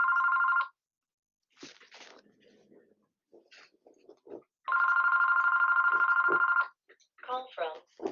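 A telephone rings in two long bursts, loud and close, with brief unclear murmurs and clatter between them and a short stretch of speech at the end.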